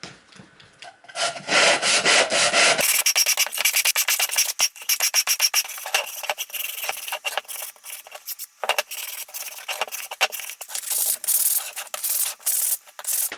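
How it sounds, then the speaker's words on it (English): Hand sanding of a wooden box, the bottom sanded flat and the edges broken, with steady rhythmic rubbing strokes of abrasive on wood, close and loud, running continuously with brief pauses between passes. "sand the bottom flat, break all the edges, sand this down"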